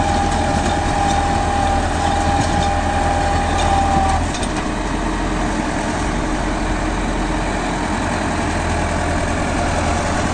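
A Farmtrac 6065 Supermaxx 65 hp 4WD tractor engine runs close by with a steady low diesel rumble. A faint whine sits over it at first, then fades partway through while the engine keeps going.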